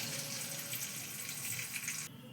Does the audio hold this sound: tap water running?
yes